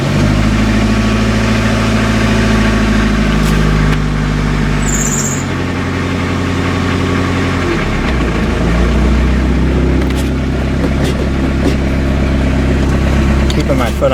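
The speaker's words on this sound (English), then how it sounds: "It's idling kind of rough." Rough idle of a 1986 Ford Escort wagon's 2.0L diesel engine, a steady low rumble that runs throughout with slight shifts in pitch as the idle drops and is held with a touch of throttle.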